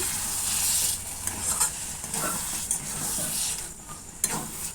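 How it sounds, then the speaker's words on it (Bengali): Vegetable ghonto being stirred in a pan after ghee and garam masala go in, a steady run of scraping and stirring strokes over a soft sizzle, close and continuous with no talking. "ভালো করে এই ঘন্টর সঙ্গে নাড়াচাড়া করে মিশিয়ে নিলাম"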